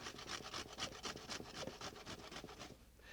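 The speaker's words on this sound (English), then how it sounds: "dry French bread, and you cut the crusts off, and then you grate it into your bowl." Dry French bread with the crusts cut off is grated into a bowl to make breadcrumbs, giving a faint, quick, rhythmic rasping of about a dozen strokes in close succession, with no speech.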